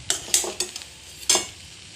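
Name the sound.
egg chow frying after adding a spoon of ghee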